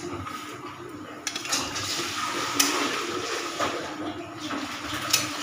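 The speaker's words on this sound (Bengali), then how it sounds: "এবার আমি এর মধ্যে কিন্তু জল দিয়ে দিচ্ছি।" Water poured into mung dal cooking with a fish head, heard as a soft, continuous rushing splash with a few small knocks, fairly quiet and close.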